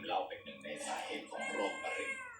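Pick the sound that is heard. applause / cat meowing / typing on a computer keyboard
cat meowing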